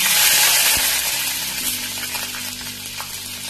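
Chopped garlic cloves hit hot mustard oil in a pan and sizzle loudly at once, the hiss easing gradually and settling over a few seconds into a steady crackle, close up.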